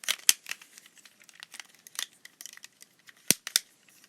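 A twisting fidget toy giving off small clicky snaps: sparse, irregular sharp clicks and crinkly ticks, close up and fairly quiet, with a couple of louder pops near the end and no voices.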